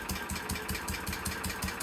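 A Briggs and Stratton 10 HP engine fitted in a tractor starts and runs, giving a steady, loud, rapid chugging beat close by, with no talking.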